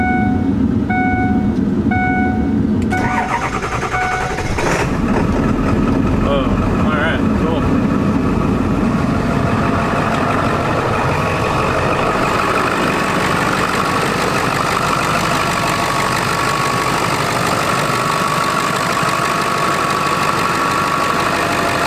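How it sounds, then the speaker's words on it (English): A Ford F250 7.3 turbo diesel truck engine cranks with a whirring starter, catches, and settles into a loud, steady rattling idle close by. "How diesel trucks sound."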